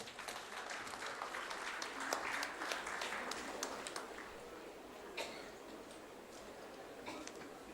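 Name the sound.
audience applause welcoming a speaker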